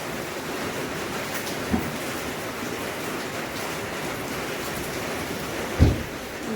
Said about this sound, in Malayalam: മഴ ഒരു രക്ഷയില്ല കേട്ടോ